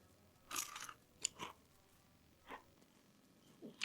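Crunchy chocolate pistachio snack is chewed close to the mic, a few distinct crisp bites and crunches spaced apart against near silence.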